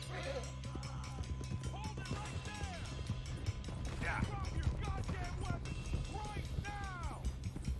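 Horse hooves clip-clopping at a run in Red Dead Redemption 2, steady galloping beats under game music, shouting characters and ambient noise, with people talking over it.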